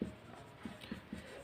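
A pen or chalk writes out the working of a class 10 maths problem, a quiet scratchy scribble with a few soft taps, close and faint, with no talking.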